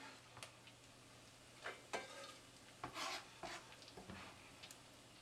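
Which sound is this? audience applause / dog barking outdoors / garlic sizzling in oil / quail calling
garlic sizzling in oil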